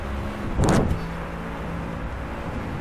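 A race car in the racing video game Driveclub accelerates, its engine rising in a brief loud surge before settling into a steady drone.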